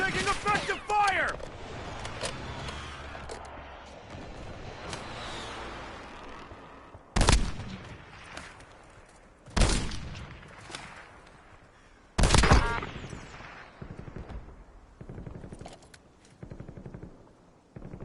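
Gunfire in a video game: a loud opening burst, then a quieter background of distant shots broken by three sharp, heavy blasts spaced a few seconds apart, with a voice talking throughout.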